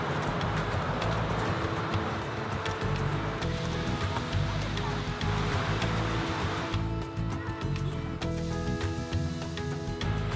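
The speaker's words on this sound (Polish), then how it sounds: "Idę do wodospadów, słynnych wodospadów Błękitnego Nilu." The Blue Nile waterfalls in the Ethiopian mountains send a mass of water crashing down in a continuous, dense roar that stays loud and unbroken throughout.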